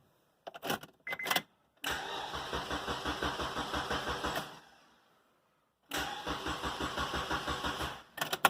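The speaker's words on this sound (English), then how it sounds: "I got it cranking again." A K-swapped Honda Insight with a rebuilt starter cranks in two long, rhythmic bursts separated by a pause, after a few short clicks and stabs at the start, heard up close with no talking.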